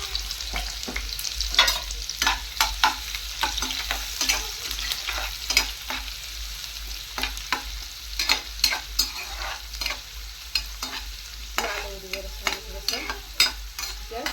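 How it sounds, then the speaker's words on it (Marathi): Onion and green chili stir-fried with garlic in a pan for Konkani-style zunka: a continuous loud sizzle broken by repeated scraping strokes of a spatula, with no talking. "आता कांदा टाकते आणि मिरची. थोडंसं परतून घेऊया ते."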